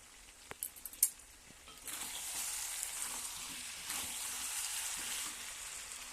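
Meat sautéing in oil with turmeric and chili, a broad steady sizzle that swells after a few early stirring clinks and scrapes, close and continuous with no talking.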